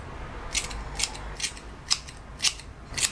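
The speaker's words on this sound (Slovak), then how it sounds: "Páči sa mi, ako sú to proste nožnice na papier." Scissors snip through hair in a quick series of six crisp cuts at roughly half-second intervals, close and fairly quiet with no talking.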